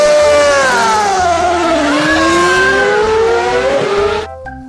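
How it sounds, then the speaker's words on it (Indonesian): A Formula One racing car screams past with a high engine whine that sweeps down in pitch as it passes, loud and close, then cuts off sharply. "Mobil balap Formula One."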